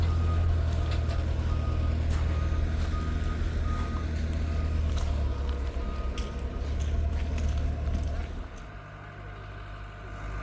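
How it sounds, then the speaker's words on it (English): A telehandler forklift reversing at a steam locomotive restoration yard, its repeated steady backup beeps sounding over a low diesel engine rumble, fairly close, continuing until the engine note drops near the end. "The telehandler forklift is just collecting now."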